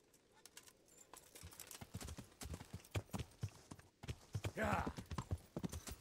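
Horse hooves clip-clopping in the medieval video game Kingdom Come, a rhythmic trot that grows louder and closer, with birdsong and a brief spoken word over it.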